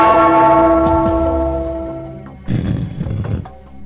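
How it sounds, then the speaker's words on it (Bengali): A cartoon bell rings with a loud, ringing strike that slowly decays, followed by a burst of rough, roaring noise. "ওই ঘন্টাটা বাজাও, বাজাও"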